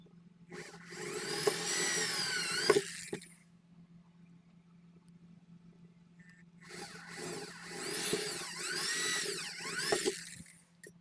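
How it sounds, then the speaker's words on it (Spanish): Power drill boring holes for rivets during a build of a TV antenna, with two sustained whining bursts of several seconds each separated by a quiet pause, close and fairly loud. "voy a realizar en cada uno nuevamente agujeros para colocar esos remaches"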